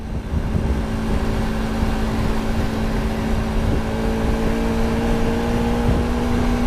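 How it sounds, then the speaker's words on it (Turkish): A Bajaj Pulsar RS200 motorcycle engine runs loud and close with a steady, high-pitched droning hum, holding a fairly constant rev without pauses or voices. "Zaten biraz daha hız motoru olarak yaptıkları için 9000 devire kadar çıkabiliyorsun bu motorlarda."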